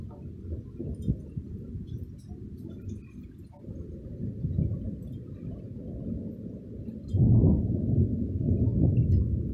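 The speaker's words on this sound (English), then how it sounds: "Let's see when the thunder hits." Deep, sustained rumbling of distant thunder from a cool change after a humid day rolls on for several seconds, swelling louder near the end.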